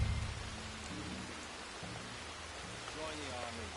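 Steady rain falling in the video game Red Dead Redemption 2, a continuous hiss of drops with faint low game sounds underneath and no talk.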